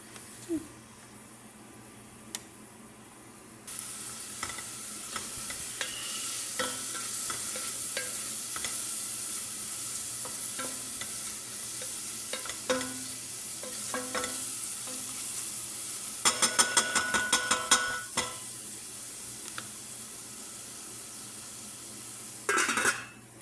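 Ingredients for a soup fry in a pan until browned, a soft continuous sizzle under intermittent spoon scrapes and clinks against the pan, with a few louder bursts of stirring and clatter.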